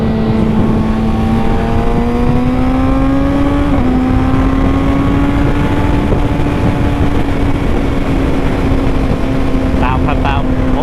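A Honda CBR400 motorcycle engine runs steadily and loudly while riding, with a sustained drone that rises slightly in pitch partway through and holds close and continuous throughout.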